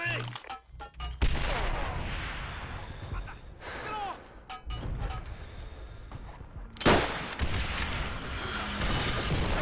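Enemy artillery fire in the World War II shooter game Call of Duty: WWII, heavy booming blasts and scattered gunshots erupting loudly in bursts, with a big impact near the end over a busy battlefield din.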